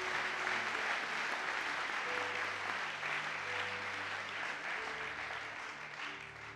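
A church congregation at a Sunday service applauds together, a dense sustained clapping that fills the room and fades slightly toward the end.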